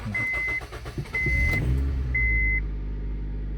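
A 2005 Honda Civic engine cranks and catches after a throttle body cleaning: a few seconds of starter grinding with repeated electronic beeps, then the motor fires and settles into a low steady idle, close and loud.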